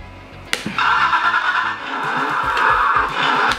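A toy Ducati-style electric ride-on motorcycle's engine sound kicks in after a sharp click of the power button, holding a steady synthetic whine with a brief rev near the end.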